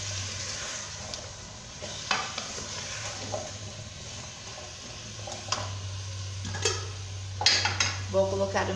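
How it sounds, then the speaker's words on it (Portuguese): A pan sautés a sauce with colorau (annatto) for chicken noodle soup with a soft, steady sizzle as a utensil stirs and scrapes, clinking against the pot now and then over a low hum. "Agora a gente refoga um pouco."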